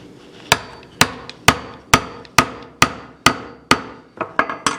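A wooden spline is tapped into a cabinet joint with about a dozen sharp hammer blows in a steady rhythm, each ringing briefly, ending in a quicker cluster of lighter taps.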